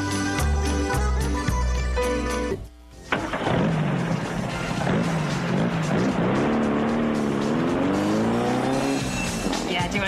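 A car pulls away in a parking lot with loud squealing tires and a revving engine, following a stretch of music and an abrupt cut, close and prominent throughout.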